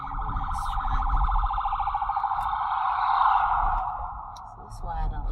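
An ambulance siren wails close by with a rapid, pulsing yelp over road noise and swells louder as it passes. It fades toward the end while a voice speaks briefly.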